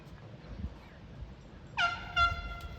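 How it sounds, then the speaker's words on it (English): After a quiet stretch of low rumble, a loud boat horn blares a sustained honk that swells twice before the clip ends. "Why are they honking at them and not us? I waved and got a honk."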